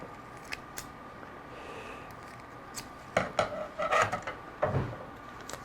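Scissors handled and snipping in a workshop while decorative decals are prepared, giving a few sharp close clicks and cuts in short bursts over a quiet room.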